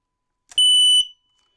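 A single piercing electronic alarm beep from a smoke detector being tested, loud and close, lasting about half a second and then cutting off.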